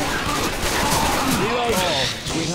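Gunfire in a Left 4 Dead 2 versus match: a dense, constant crackle of rapid shots layered under overlapping voices and game chatter, steady and loud throughout.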